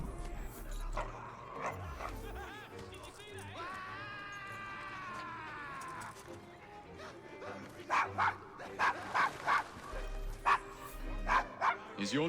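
A dog named Desmond in Assassin's Creed Syndicate barks in a short burst of sharp yaps close by, following a stretch of game music and ambience with a whining tone.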